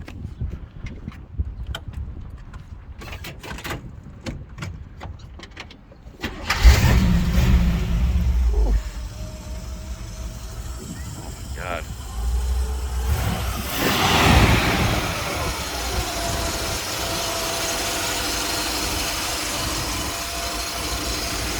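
Clicking and shuffling give way to an engine cranking and catching, then a 1957 Chevrolet Bel Air idles with a deep, steady rumble and a brief rev.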